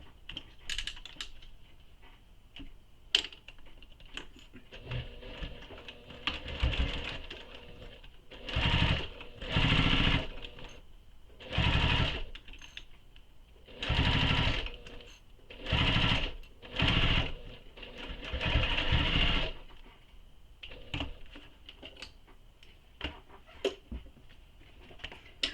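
A domestic sewing machine top stitches the flap of a fabric belt bag in about seven short bursts of whirring, each a second or so long, with quiet handling noises between them.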